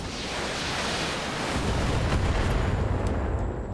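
Mech weapons firing in the Battletech video game, a dense, loud barrage of booming blasts merging into a continuous rumble with heavy low end, growing slightly stronger midway.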